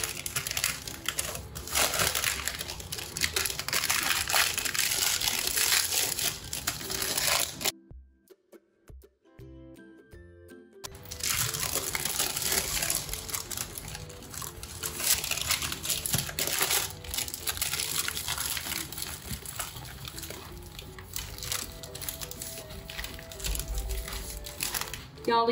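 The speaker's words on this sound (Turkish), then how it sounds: "Yağlı kağıtla birlikte sardım." Baking paper crinkles and crushes steadily while a thin banana sponge cake roll is rolled up in it, a close, dense rustling that breaks off briefly near the middle, with quiet talk.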